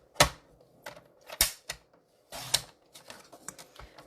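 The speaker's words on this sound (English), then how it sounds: "let me set this aside and pull out the trimmer" A paper trimmer cuts designer series paper with a series of sharp, irregular clicks and short sliding scrapes, close and fairly quiet.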